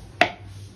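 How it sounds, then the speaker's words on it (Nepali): A single sharp knife chop through an onion on a cutting board in a home kitchen, one crisp close thud with a short ring, then quiet room tone. "यहाँनिर प्याज कटिङमा चाहिँ बिचरा सपनाले गर्दैछ हो।"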